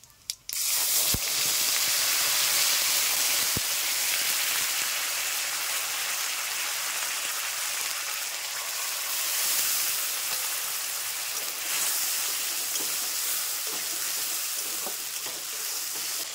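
Spices added to oil after a whole-spice tempering for a vegetarian cabbage dish fry with a loud, continuous hissing sizzle that holds steady throughout, broken by a couple of sharp clicks near the start.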